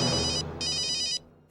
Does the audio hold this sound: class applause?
no